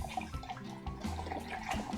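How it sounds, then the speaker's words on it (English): Vinegar pours into a measuring cup for pickling, a quiet continuous gurgling splash of liquid with slight shifts in pitch as the cup fills, close by and soft. "we're going to measure out 8 cups of vinegar"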